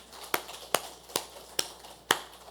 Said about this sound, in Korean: 이제 서로 얼굴 보면서 박수 한번 합시다